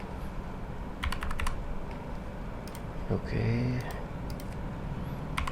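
Computer keyboard typing in quick bursts of clicks, fairly close, running under a steady background hiss while someone speaks briefly in Hindi.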